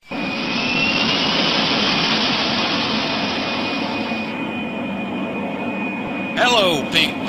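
A cartoon jet aircraft engine holds a loud, steady roar with a high whine riding on top, and near the end a voice speaks over it.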